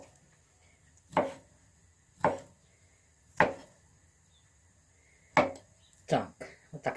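A knife chops beetroot on a cutting board in a home kitchen, giving sharp, distinct strikes at irregular intervals, about seven in all, heard up close with quiet pauses between.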